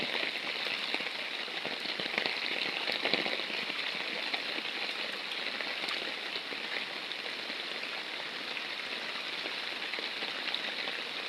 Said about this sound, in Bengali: আজকে প্রচুর পরিমাণে বৃষ্টি হয়েছে সকাল থেকে দেখো বৃষ্টি